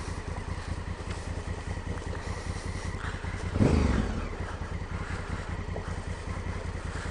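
Honda Africa Twin motorcycle riding down a big rocky off-road hill on MotoZ Tractionator adventure tires, its engine running steadily and close, with a brief louder swell midway as it comes down and slows.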